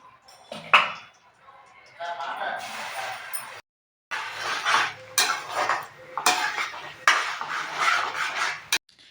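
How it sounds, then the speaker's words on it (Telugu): Masala being stirred in hot oil in a pan, a metal spoon scraping and clattering against the pan in repeated bursts with brief pauses, fairly close and loud. "ఇప్పుడు ఈ మసాలా అయితే ఇందులో వేసుకొని వేపించుకోవాలి"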